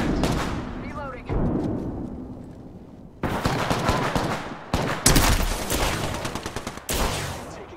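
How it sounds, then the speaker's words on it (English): Gunfire in Apex Legends: repeated loud bursts of automatic weapon fire with sharp cracks and short pauses between volleys, close and dominant, with brief game voice callouts mixed in. "Taking fire. Getting shot at."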